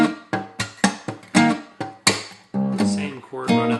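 A song's intro, live version, played on guitar as a triplet riff: close, loud plucked notes in a quick, bouncing rhythm of sharp attacks with ringing chords.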